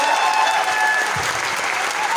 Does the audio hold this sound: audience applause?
yes